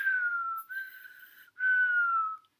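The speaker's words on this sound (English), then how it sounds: "who was still whistling." A person whistles a clear, steady tone in three sustained phrases, the middle one slightly lower and softer, with brief breaks between them and nothing else heard.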